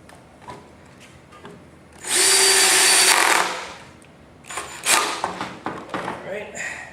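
A power drill drives screws into the wooden panels of a computer desk case, one loud sustained burst near the start followed by shorter choppy whirs, with faint speech in the quieter gaps.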